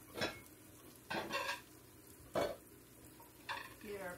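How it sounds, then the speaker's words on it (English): Mushrooms cook in a pan beside an onion gravy, with four scraping stirs that come at irregular moments over a low, steady sizzle, close by and with no talking. "So I have my mushrooms cooking."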